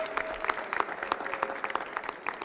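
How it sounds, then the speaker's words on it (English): An audience at a pitch competition claps for the judges, a brief burst of dense, steady applause from a moderate-sized crowd that carries on without pause. "So let's give a round of applause for our judges."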